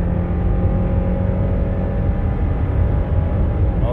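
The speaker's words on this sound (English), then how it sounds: "The engine sounds good." A 2019 Subaru Outback's engine hums steadily while driving, a low continuous drone with road noise underneath, close and fairly loud, with no talk over it.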